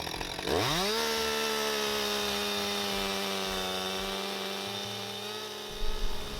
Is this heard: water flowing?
no